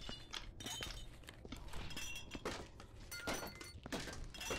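A rifle butt striking a dwarf's head in Viscera Cleanup Detail, a series of dull thunks and clinks repeating irregularly, close and fairly loud, over faint game background.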